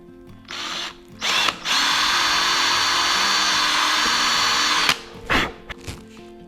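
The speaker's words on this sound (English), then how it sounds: "Now to screw in the little plates down here. These are the wear plates that the crisscross bars" A power drill drives screws into the wear plates of a Benchcrafted leg vise on a split top Roubo workbench, with short bursts and then one long steady whine, loud and close, followed by brief clicks.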